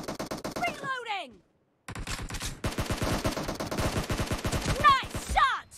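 Close, rapid automatic gunfire in a PUBG Mobile team deathmatch in a warehouse comes in sharp repeated bursts, with a brief silent gap and whooshing effects between them.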